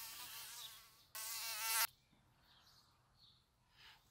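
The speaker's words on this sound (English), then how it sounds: "Damn mosquitoes are coming out!" Mosquitoes buzz close to the microphone outdoors, with one loud, high, whining drone for under a second, then fainter intermittent hums drifting past.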